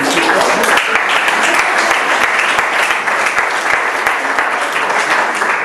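Audience at a book presentation breaks into loud, sustained applause, a dense wash of many hands clapping steadily from start to finish.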